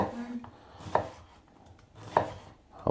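A knife chops onion on a cutting board for a Moroccan lentil and chickpea soup, with a few distinct, evenly spaced thuds against the board, quiet and close, with no talk.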